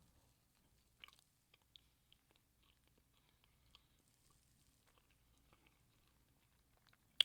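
Someone chewing an Entenmann's bun at room temperature, with faint, sparse, moist bites and soft crunches spaced out over several seconds in an otherwise quiet room, very close to the mouth.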